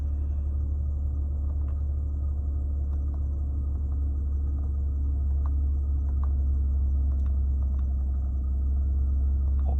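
A 3.5L V6 in a 2009–2015 Nissan Maxima idles steadily close by, a continuous low rumble with a thin, faint belt squeal riding over it and no talk.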